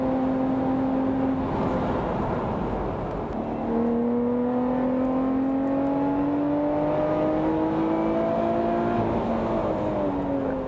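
Lotus Evora GT430 driven hard on a race track, a steady loud engine note climbing in pitch through the gears with a brief dip around a shift, continuous onboard roar for about ten seconds.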